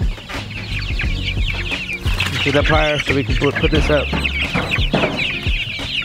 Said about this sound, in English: You guys gotta stay in there with the chickens